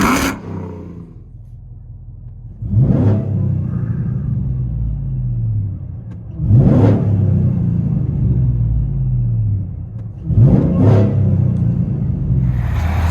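A supercharged 640hp GMC Denali fitted with headers and a Stainless Works exhaust revs three times at close range, each blip a deep rumbling roar swelling over a loud idle burble.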